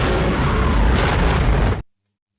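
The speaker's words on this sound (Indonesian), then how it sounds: "Dan si Raja Monster pun meledak bersama kapalnya." Massive explosion as a ship blows up with a giant sea monster aboard in the film Deep Rising, a loud, dense roaring blast sustained for nearly two seconds before cutting abruptly to silence.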